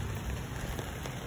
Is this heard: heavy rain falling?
yes